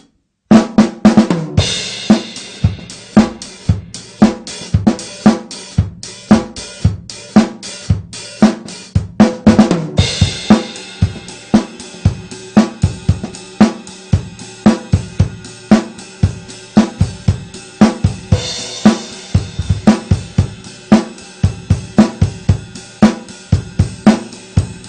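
Drum kit groove with steady hi-hat work and a foot splash cymbal, punchy kick and snare hits in a repeating rhythm, close and loud with no talking throughout.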